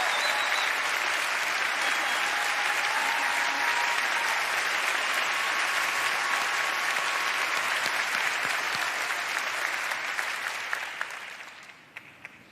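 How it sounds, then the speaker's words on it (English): A large concert audience at a 2006 CMT Giants tribute to Reba applauds a band in a sustained, dense wash of clapping that fades out near the end. "would you please give them a big round of applause for being here tonight"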